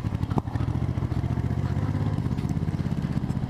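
A motorcycle with a freshly adjusted carburetor runs steadily at close range, its engine throbbing evenly with a faint clatter early on.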